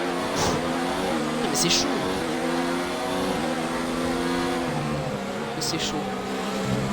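Race cars in a Formula 1 video game, with a Ferrari attacking, give a steady, droning engine whine that holds through the whole stretch, while someone talks excitedly over it.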